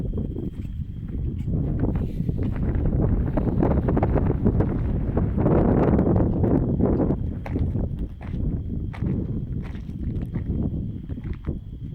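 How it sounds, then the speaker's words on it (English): Night wind gusts hard outdoors, buffeting the microphone in a loud, rumbling roar that swells and eases over several seconds, with no speech heard. "it's a little bit windy tonight."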